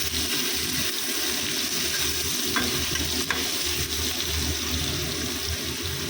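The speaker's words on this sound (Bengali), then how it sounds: "পনিরটা একটু ভেজে নিচ্ছি আর নুন আর চিনি দিয়ে" Paneer frying in a pan with salt and sugar, a steady close sizzle that runs throughout with no breaks and a couple of faint clinks of stirring.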